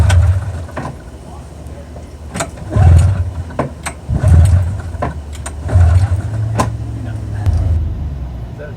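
Snowmobile engine fitted to a go-kart being started, sounding as repeated low rumbling pull attempts and brief engine bursts, fairly close, with people talking during it.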